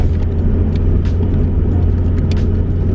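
An old car on historic plates is driven with the engine revving high, giving a loud, constant low rumble heard from inside the car.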